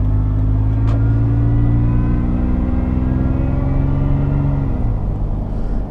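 A supercharged Toyota FJ Cruiser idles and revs loudly up close, blending a deep rumbling exhaust with a supercharger whine, and the engine note drops near the end.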